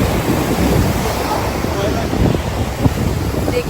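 Big ocean waves on a North Goa beach roar and wash continuously, mixed with gusty wind noise on the microphone.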